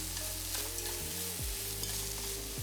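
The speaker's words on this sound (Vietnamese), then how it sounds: "Mình đảo đều liên tục để cho thịt được săn lại" Shredded chicken is stirred in a pot for a chicken mushroom soup, a steady sizzle with scraping utensil movement, close and continuous, with a low tonal hum running underneath and no voices.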